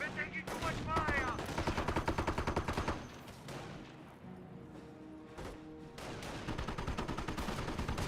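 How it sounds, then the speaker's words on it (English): Gunfire in the World War II strategy game Company of Heroes: a fast, steady machine-gun burst for about three seconds, then scattered single shots and crashes amid ongoing battle noise, with a commentator talking over it. "We're taking too much fire!"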